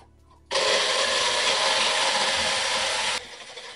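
An electric hand mixer whips a batch of homemade body butter, starting abruptly with a loud, steady motor whir that runs for about three seconds before switching off to a quieter hum.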